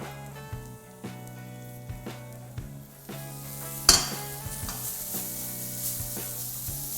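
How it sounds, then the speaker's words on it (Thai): Stir-frying Hong Kong-style rice noodles with garlic and oil in a wok: a steady, close sizzle with repeated scraping strokes of a wooden spatula and one louder clatter partway through. "คั่วให้เส้นหอมเลยนะฮะ"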